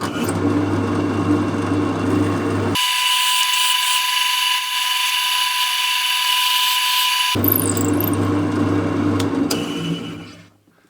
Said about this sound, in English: So now I'm going to drill some holes in that and put my copper pins in